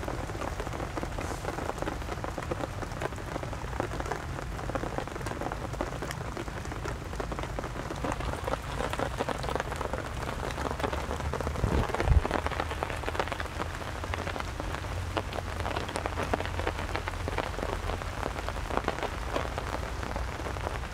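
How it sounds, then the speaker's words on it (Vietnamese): Heavy rain lashes down on a riverbank during a fishing trip in stormy weather, a dense, loud, unbroken hiss and patter with a brief thump midway and no talking. "Thời tiết mưa gió"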